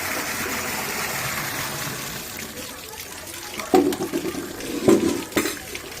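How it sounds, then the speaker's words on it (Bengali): Potatoes being washed under a running kitchen tap, a steady stream of water with splashing and clunks as the potatoes are handled and rubbed, close and alone. "আলু ধুয়ে নেবো"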